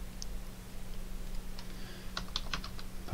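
Quiet keystrokes on a computer keyboard, a handful of light taps that cluster into a quick burst near the end over a low background hum.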